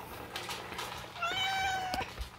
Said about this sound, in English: He's a very dark cat.